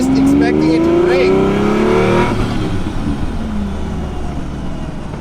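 A Lamborghini Diablo with almost no exhaust revs loudly while driving, its engine note climbing and then dropping off into a rumbling cruise with wind noise, while people talk over it.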